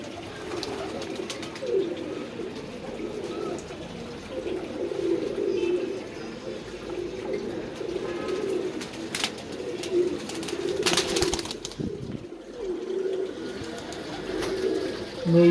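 Pigeons in a loft coo continuously in low, rolling phrases that overlap one another, steady and moderately close throughout, with a few brief rustles and a short lull near the end.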